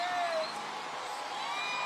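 At the Houston Astros championship parade in downtown Houston, a crowd roars as the trophy is raised: a steady, distant wash of cheering with faint whistles threaded through it.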